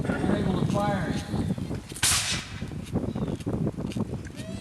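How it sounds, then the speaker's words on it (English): Musket volleys at a Third Seminole War re-enactment near Tampa, several sharp cracks spread irregularly over a few seconds, with someone narrating over the shooting. "At length, the firing continued."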